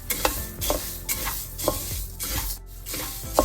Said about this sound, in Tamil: இந்த மல்லியிலே அரைவாசியை தான் போட்டு வறுக்க போகிறேன்